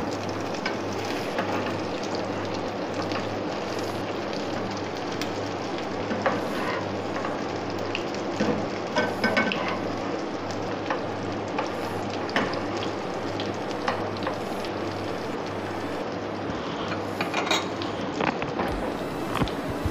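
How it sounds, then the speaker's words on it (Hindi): Beef reshay kababs fry on a slow flame, a steady low sizzle and bubbling of oil in a pan, with occasional soft pops and light clinks of a utensil, close by and without speech. "स्लो फ्लेम पे इनको फ्राई करना है।"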